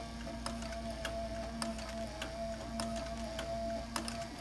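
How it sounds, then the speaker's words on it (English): A Cowboy CB3200 sewing machine stitches leather, giving a soft regular ticking of evenly spaced clicks over a faint motor hum, quiet and close. "So we're gonna stitch the last few inches."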